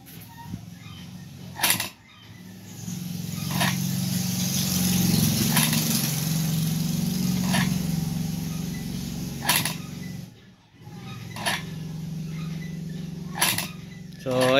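A Mitsubishi Montero throttle body under repair runs on the bench, its stepper motor driving the gears and throttle plate with a whirring, buzzing hum that swells and fades between sharp clicks and rattles.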